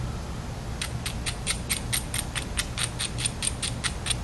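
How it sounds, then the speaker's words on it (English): Stone grinds against the edge of a flintknapped obsidian piece in a quick, even series of about fifteen close, crisp scraping strokes over a low steady background rumble. "A little grinding."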